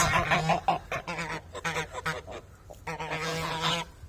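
Çorum geese honk loudly and repeatedly, a noisy overlapping chorus of harsh calls from close by.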